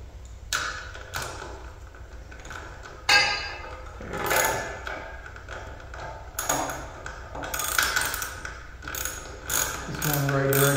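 A square nut being tightened on a wooden sawhorse leg brace, with repeated ratcheting clicks and metallic turning in short bursts, close and fairly loud, without talking.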